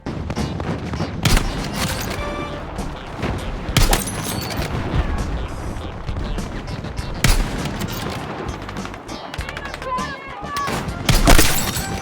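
Sniper rifle shots from an M2010 ESR in a first-person shooter game, several sharp loud cracks standing out over a dense, busy mix of game gunfire, explosions and effects, with a voice talking throughout.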